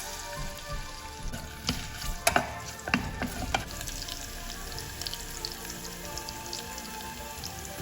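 Garlic and ginger sizzle in hot oil in a pan, a steady close crackle with occasional sharper pops and stirring scrapes, no voices.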